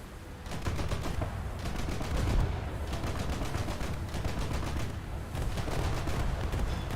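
Naval guns firing in a German coastal naval battle game, a rapid series of repeated blasts and booming volleys that keeps going at steady loudness with no voices over it.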